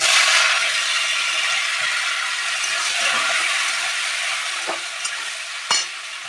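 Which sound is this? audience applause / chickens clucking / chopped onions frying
chopped onions frying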